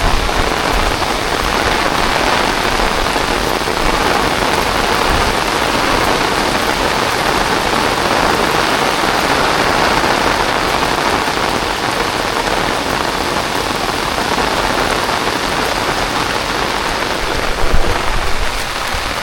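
Heavy rain pours down steadily on a Konkan village in the evening, a dense, unbroken hiss of drops on surfaces that stays loud and even throughout, with no voices.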